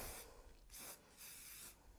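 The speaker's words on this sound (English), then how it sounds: "And a light spray." Three short hissing bursts of hairspray aerosol, close and fairly quiet, with brief pauses between them and no talking.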